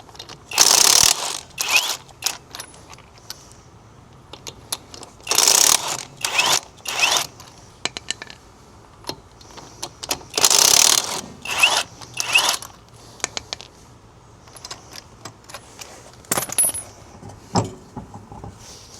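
A ratchet wrench loosening lug nuts on a Nissan Silvia S15 wheel, with repeated bursts of sharp clicking separated by pauses, close and loud, with a few metallic clinks. No speech.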